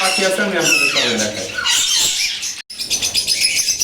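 Pet conures, green-cheeked yellow-sided pineapple and sun conures, chirp in loud, close, rapid shrill bursts while someone talks over them.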